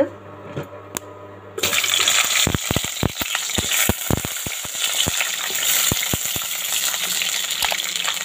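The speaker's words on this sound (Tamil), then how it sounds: "இப்போ நாம் எடுத்து வச்சுருக்கிற கத்திரிக்காய் இதில் போட்டு நல்லா ஃப்ரை பண்ணி எடுத்துக்கலாங்க." Eggplant dropped into hot oil in a pan bursts into loud, busy sizzling after a quiet start, with sharp crackles and pops spread through a steady frying hiss, heard up close.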